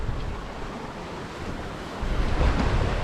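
Strong wind roars over steady wave and surf wash aboard a sailing boat running under full headsail and mainsail at sea, a continuous close rush that builds louder near the end, with no talking.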